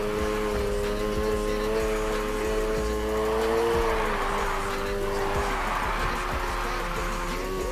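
A Honda Civic drifting in Need for Speed Heat, a steady engine drone with sustained tire squeal rising and falling across the whole stretch, loud and close.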